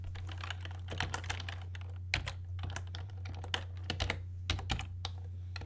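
Dense, rapid keyboard typing with irregular clacks and louder key strikes, close and continuous, over a steady low electrical hum, during a game-development session.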